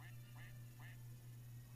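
A duck quacks outside a house in three short, evenly spaced calls, faint and distant above a steady low electrical hum, with no talk.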